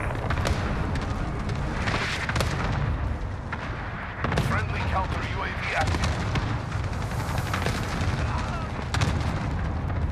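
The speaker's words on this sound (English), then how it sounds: "Cruise missile go for launch." Call of Duty Modern Warfare gameplay with a cruise missile launch and explosions: dense rumbling blasts and rapid bursts of gunfire fill the whole stretch, with sharp impacts around two and four seconds and voices buried in the chaos.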